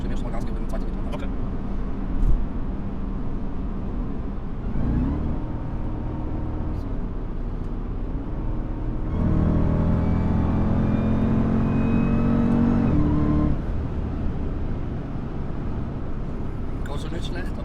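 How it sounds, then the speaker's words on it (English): Jeep Trackhawk with an 825 hp engine, a low steady rumble that swells into a louder rising rev for several seconds before settling back to idle, with people talking over it. "So we're gonna warm up the car, and then let's check how fast it's gonna be."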